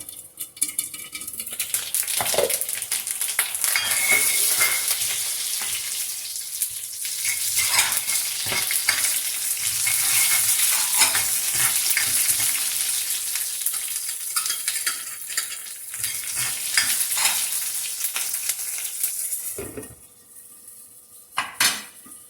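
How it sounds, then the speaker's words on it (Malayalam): Steady loud sizzling and crackling of mustard seeds frying in hot oil, with occasional scrapes of a utensil against the pan, easing off near the end. "ഇപ്പൊ കടുക് വറുത്തത് ശരിയായിട്ടുണ്ട്"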